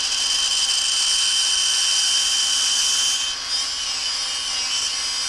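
A rotary tool grinds steadily on the flywheel of a Husky 55 chainsaw, a continuous high-pitched whirring that stays close and loud with a brief dip in pitch midway, with nobody talking.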